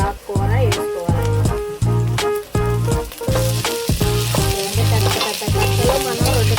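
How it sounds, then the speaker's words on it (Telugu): Amaranth leaves go into a sizzling tempering of onions in a pan and are stirred. Loud frying hiss is broken by a regular rhythm of spoon scrapes and clacks, close up, with no speech. "ఇప్పుడు ఈ ఆకుకూర వేసుకోవాలి."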